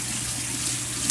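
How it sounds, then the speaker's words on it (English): Food is rinsed under running tap water at a kitchen sink, a steady hiss of flowing water from close by that lasts the whole moment, with no one talking. "That's all I gotta do. I'm just rinsing it."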